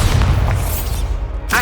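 A Bombarda explosion spell in the wizarding game Hogwarts Legacy, a heavy deep boom with a rumbling tail, close and loud, followed by a brief sharp burst at the end.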